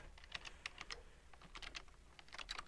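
Fingers type on a computer keyboard in quick irregular bursts of light clicking keystrokes, very faint and close, with no voices.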